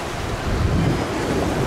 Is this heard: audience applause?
no